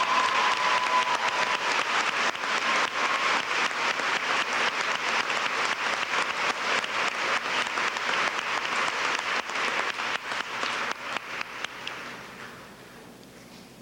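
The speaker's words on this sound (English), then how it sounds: "I welcome your applause for their outstanding work in this full IB diploma program." At a high school graduation ceremony, a large audience applauds IB diploma students with sustained, dense clapping that fills the room for about twelve seconds, then thins to scattered claps and fades out.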